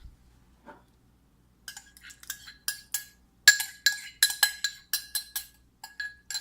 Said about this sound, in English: So now you want to put in your warmed up yogurt